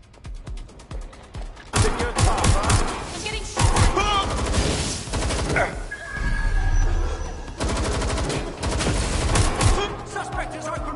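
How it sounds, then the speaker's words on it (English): Video game gunfire from Watch Dogs Legion: rapid automatic bursts and single shots ring out in dense clusters, loud and close, with game dialogue and crashing effects mixed in. "Suspect has opened fire!"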